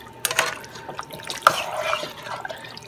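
Eggplant cooking water poured into a pot for a Puerto Rican eggplant-and-chicken dish, heard as a light, close splashing trickle with a few drips, strongest in brief bursts, with no talking.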